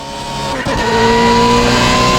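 A BMW M3 GTR race car in Assetto Corsa on the Nordschleife accelerates hard, its engine note rising in pitch and loudness, with a brief gearshift dip before climbing again.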